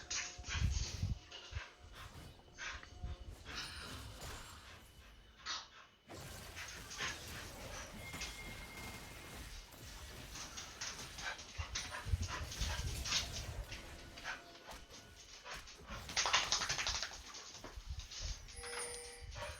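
Small freshly bathed dog whimpering and panting indoors, intermittent soft whines and breathy sounds over nearly twenty seconds, close but fairly quiet against background game commentary noise.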